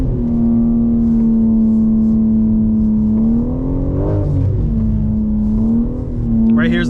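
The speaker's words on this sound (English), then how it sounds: "Let's try and get some donuts in" A 2024 BMW M4 Competition xDrive spinning donuts on a skid pad, its engine holding a loud sustained drone that rises and wavers as the revs climb mid-slide, heard close from inside the car.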